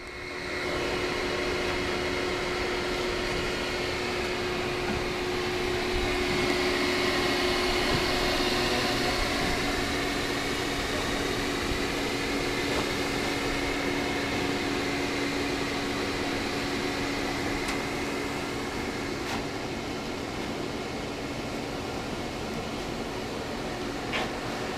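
A Ridgid shop vacuum runs steadily, pulling air from behind an in-ground pool liner during installation: a continuous broadband whoosh with a constant whine, unbroken and fairly close for the whole stretch.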